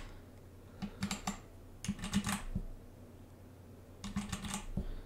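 Fingers type on a Motospeed mechanical numpad with Outemu Red switches, giving short close bursts of clicky key presses separated by brief pauses, against a quiet background.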